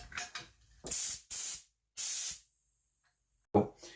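A paint spray gun sprays in short bursts, loud close hissing blasts of about half a second each separated by silences, with a few softer puffs at the start and end.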